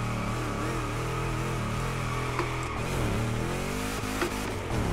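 A 1000hp Chevrolet Caprice donk on 28-inch rims roars steadily in The Crew Motorfest, its engine droning loud and continuous through accelerating gears with a rising pitch and no voices.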